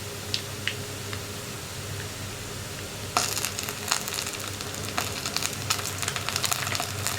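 Ginger garlic paste added to browned onions in a hot pan, a faint background hiss that jumps partway through to a louder crackling sizzle with scattered pops.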